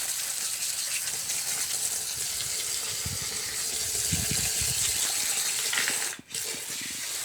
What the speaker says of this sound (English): I'm going to top it up with water now.